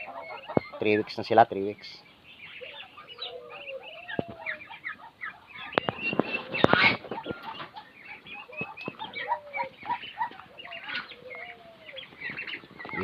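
Farm geese and ducks, including laying ducks and young three-week-old birds, call and cluck in a busy flock with wing flaps and scattered squawks, a loud burst near the start and middle, while a person talks over them.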